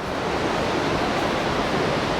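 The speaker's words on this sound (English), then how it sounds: "You could just hear that waterfall." A waterfall at Janet's Foss near Gordale Scar, heard as a constant broadband rushing roar of falling water, steady and moderately loud with no variation and no voices.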